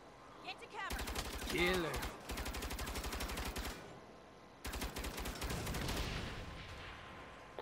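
A tank's turret gun in the Saints Row video game fires two long, rapid bursts of loud automatic fire separated by a short gap, with a voice speaking briefly over it.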